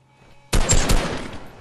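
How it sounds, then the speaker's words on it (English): Sniper rifle gunfire in the video game Fortnite: after a quiet start, a loud, close shot bursts in, followed by a sustained crackle of rapid gunfire and echoing reports. "Almost sniped someone in the head."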